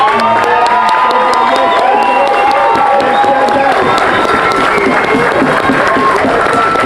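A rally crowd at a march on Parliament bursts into sustained cheering, shouting and applause, loud and dense throughout, with whoops and voices rising above steady clapping.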